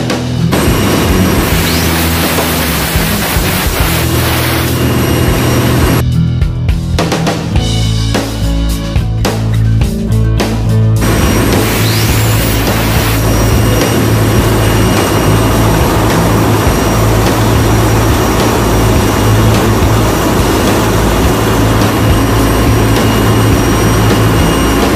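A generator's engine runs hard during an air blow, a loud, continuous roar with a deep low rumble and a brief hissing, choppy stretch partway through, close by and with no talk.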